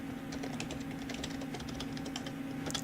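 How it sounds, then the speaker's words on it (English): Keys on a computer keyboard clatter in quick, irregular taps, close and fairly faint, over a steady background hum. "you want to type in their name here"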